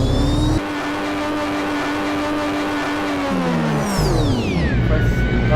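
Race cars in a Formula-style racing video game roar past with loud high-revving engines, their pitch sliding down as each car goes by, and a commentator talks over them.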